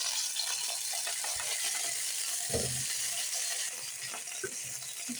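Shawarma laid into a pan of hot oil gives a steady faint sizzle and hiss, broken by a few clinks and a thud of meat or utensil, with no speech.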